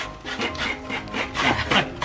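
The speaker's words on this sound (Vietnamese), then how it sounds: "Lâu quá mới nạo cái vụ này à." A coconut is grated with a hand scraper during a speed-grating contest, giving close, continuous rasping strokes in a quick, uneven rhythm.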